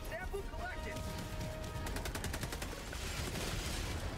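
Rapid turret gunfire in the Helldivers 2 video game, a dense burst of repeated shots under steady background noise and game sounds, with players talking over it.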